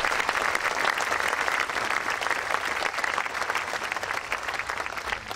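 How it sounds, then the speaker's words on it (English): Sustained audience applause at the Summer Showcase in Tuscora Park for the local philharmonic, a dense, even wash of clapping from a sizable crowd throughout. "And I think that deserves a round of applause."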